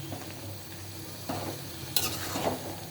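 Curry with ripe tomatoes cooking in a pan, a soft steady sizzle with a few scraping stirs, close and moderately quiet.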